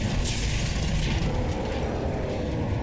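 A huge bomb blast rolls out in the video game Psychonauts, a dense continuous roar with mechanical rattling textures, loud and sustained without speech.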